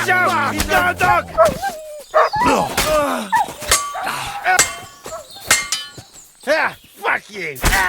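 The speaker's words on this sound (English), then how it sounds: "Watch out! He's got a dog!" Dog barking in the Kingdom Come Deliverance II video game, sharp, close barks scattered among clangs and thuds of a scuffle, with shouting voices over it.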